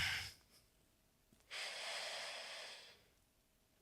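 Long, steady exhale through the mouth during a breathwork and stretching session, rising strongly for about a second and a half and then tapering off, preceded by a shorter breath and a faint snort, close and alone.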